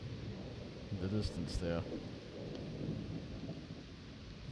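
Low thunder rumbles continuously beneath steady storm noise as a severe thunderstorm moves away over New York Harbor, with a brief spoken phrase near the start.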